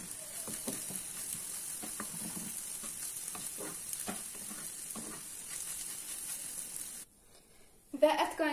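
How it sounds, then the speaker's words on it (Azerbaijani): Vermicelli and onion fry together in a pan for a chicken soup, a steady close sizzle broken by repeated scraping stirs for about seven seconds, then the hiss drops away before a few louder knocks at the end. "verməşili, soğanla bir yerdə qızardıram"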